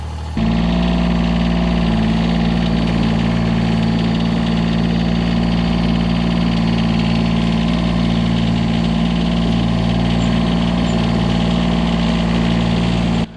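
A John Deere 332 compact tractor's diesel engine running steadily at idle in about -30°C cold, a loud close rumbling drone with constant vibration after it starts up.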